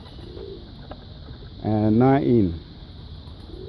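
Birds coo outdoors in a soft, wavering call, rising and falling, with faint chirps elsewhere, while a person speaks briefly over a steady background hum.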